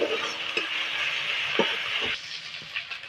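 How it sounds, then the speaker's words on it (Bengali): Ginger-garlic paste frying in hot oil with grated onion for aloo dum, a steady close sizzle broken by a few soft scrapes and stirs of a spatula in the pan. "আদা রসুন বাটাটা তেলে একটু ভেজে নেবো ভালো করে"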